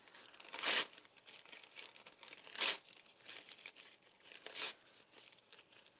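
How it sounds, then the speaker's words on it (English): Encyclopedia paper is torn by hand in three quick, crisp rips spaced a couple of seconds apart, with faint crinkling between them in a quiet craft setting. "So let's just rip up our encyclopedia paper."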